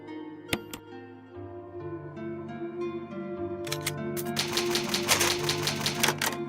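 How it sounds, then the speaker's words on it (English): Typewriter keys clack in a Resident Evil save room: a quick flurry of dense, close mechanical strikes builds over calm, sustained save-room music. "Oh man, that like clacking of typewriters, it's so good."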